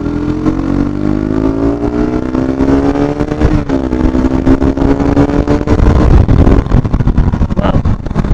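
A KTM RC 200 BS6 motorcycle engine revs hard to high rpm, its rising, rasping drone climbing steadily and then holding loud and close throughout, with no talk over it.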